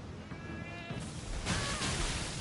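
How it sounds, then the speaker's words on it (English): In Elden Ring, a lightning ram bleats once, a wavering cry over a constant hiss of game sound and music, followed by a swell of broadband noise. "What was that noise? It's the lightning ram."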